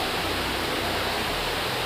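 A hidden waterfall in Chhattisgarh, India, rushing steadily as a dense, even roar of flowing water, continuous and fairly loud with no voices.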